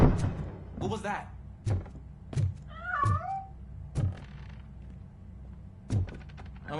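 A cat meows once in the Robocop: Rogue City video game, a short wavering mew amid heavy footstep-like thuds and low ambient rumble.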